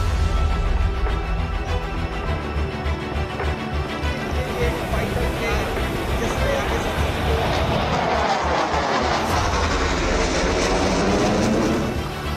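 Indian Air Force Sukhoi, Rafale and Jaguar fighter jets fly low over the Ganga Expressway, making a loud, continuous jet roar that swells toward the end as an aircraft passes overhead.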